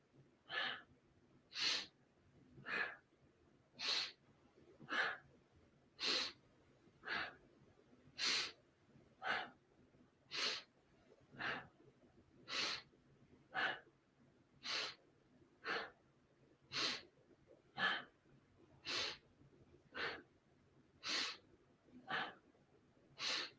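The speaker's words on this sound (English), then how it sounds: "Inhale, exhale. Inhale, exhale." Deep, slow yoga breathing heard close and quiet, with steady rhythmic breaths repeating roughly every second and a half across the whole stretch, no talking.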